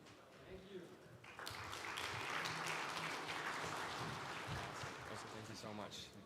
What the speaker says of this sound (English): Can we give another bigger round of applause for Marius, everybody?